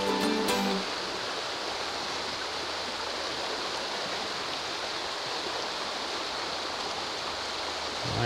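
Steady broadband rush of river water flowing around a bend in a Cascades trout stream, continuous and fairly close, with a brief faint voice at the very start.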